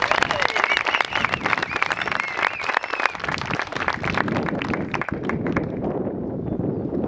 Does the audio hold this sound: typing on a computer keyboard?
no